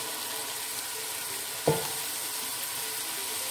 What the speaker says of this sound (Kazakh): Арасылып қуырып аламыз.